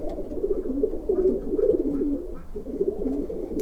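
A racing pigeon coos steadily up close, with low, throaty rolling calls that repeat for several seconds and have only a brief pause.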